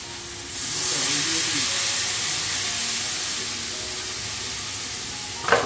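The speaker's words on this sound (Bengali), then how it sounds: "অল্প একটুখানি মশলা দিয়ে কষে ঝোলটা চাপিয়ে দিলাম" Spiced fish curry gravy simmers and sizzles in a pan, a steady close hiss with a brief sharper burst at the end.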